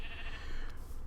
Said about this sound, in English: That's why we've got all these sheep around here.